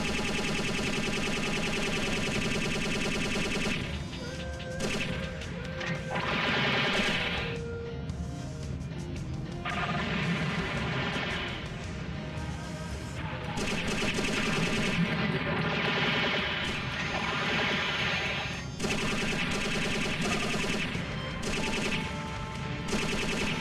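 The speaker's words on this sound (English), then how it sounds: "we were told to shoot fighters, so I'm shooting fighters" Rapid gunfire while shooting at fighters in Robotech Battlecry, dense bursts of rattling shots and crashing impacts over a busy game soundtrack, loud and nearly continuous with brief lulls.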